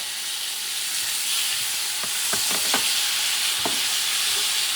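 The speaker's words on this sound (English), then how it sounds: "Let me mix everything up." Grated fresh tomato stirred into gator paella in a pan, a steady sizzling hiss with a few scraping stir strokes clustered in the middle and near the end.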